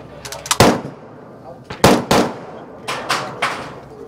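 Guns firing at an outdoor shooting range during an industry day, a series of sharp, loud close shots in irregular clusters of single and double reports, with voices speaking between them.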